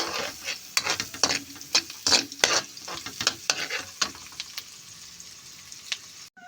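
Garlic sizzles in a hot pan for butter garlic shrimp, a steady frying hiss broken by repeated stirring scrapes of a utensil, fading toward the end.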